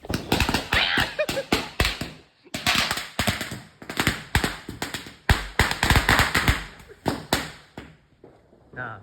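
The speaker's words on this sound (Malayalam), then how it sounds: "എല്ലായിടത്തും പടക്കം പൊട്ടുണ്ട്" Firecrackers burst over and over in quick irregular volleys during New Year celebrations, sharp close bangs crackling in dense runs with short gaps, with people's voices mixed in around them.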